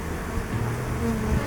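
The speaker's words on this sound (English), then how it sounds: "The bees are going crazy." Bees swarm and drone around an exposed hive during a rescue high up a supermarket wall, a dense continuous buzz close by with no talking.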